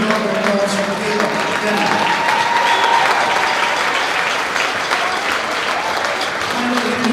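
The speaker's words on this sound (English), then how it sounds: "Let's get a huge round of applause for Caleb." A crowd in a gym gives sustained, loud applause for a high school basketball athlete, with cheering mixed in and a voice faintly audible through the clapping.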